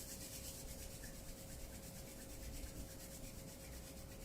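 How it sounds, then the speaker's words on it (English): Palms rub together steadily to build warmth during a beginner yoga session, making a soft, continuous dry swishing that stays faint and even with no voices. "Rub your palms together, generate some heat."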